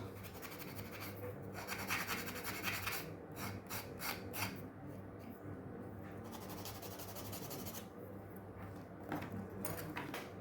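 Sanding of a small part from a Tamiya 1/48 Royal Navy Sea Harrier FRS1 scale model kit: soft, continuous rasping strokes, close but quiet, repeating steadily with no talk.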